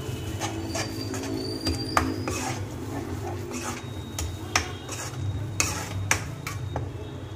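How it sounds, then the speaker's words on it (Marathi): A spoon stirring chili powder and sugar into paneer tikka masala in a pan, with repeated close scrapes and light metallic clinks against the pot over a soft background hum. "सगळं छान मिक्स करून घ्यायचं"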